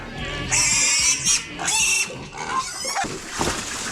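Pigs grunt and squeal close by on a rural Serbian farm, with several high-pitched squeals and lower snorting grunts overlapping in an irregular, busy farmyard chorus.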